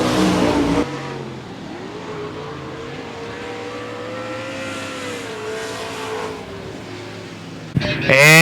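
Street stock race cars drone around the track at 105 Speedway, a steady engine hum with a rising and falling tone, and a loud burst of revving near the end.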